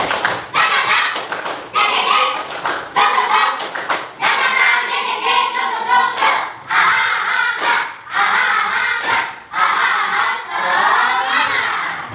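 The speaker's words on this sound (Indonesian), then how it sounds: "Tepuk semangat dua." Students at a school perform a rhythmic spirit clap, "tepuk semangat," slapping hands in quick patterned bursts with group shouts mixed in, loud and close throughout, with a few short pauses between phrases.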